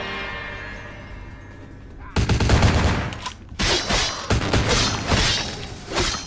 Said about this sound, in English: He's getting shot by his teammate.